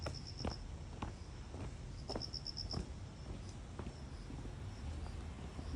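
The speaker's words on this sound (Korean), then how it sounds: "이제 귀뚜라미들이 오네." Crickets chirp at night during a walk, faint high trills repeating in short pulsed bursts against a steady quiet outdoor background, with no talk over them.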